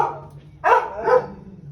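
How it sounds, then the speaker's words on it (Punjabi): A dog barks twice, close and loud, two sharp separate barks less than a second apart over a faint steady hum. "ਜਿਹੜਾ ਇਹ ਕੁੱਤਾ ਨਾ, ਇਹਨੇ ਬੜਾ ਸਤਾਇਆ"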